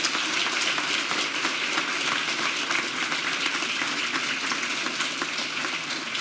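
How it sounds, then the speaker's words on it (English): Audience applause after a space talk by a retired NASA astronaut, a dense continuous patter of many hands clapping at moderate distance, with no talk. "So first, a round of applause for Heide, please."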